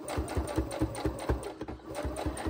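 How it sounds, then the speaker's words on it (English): A sewing machine stitches slowly in short, rhythmic bursts of needle thumps and motor whir while the pedal is barely pressed, close and fairly loud with no talking. "if you can't go real slow on your sewing machine, work with that and try to just barely touch that pedal to get a couple of stitches to come through"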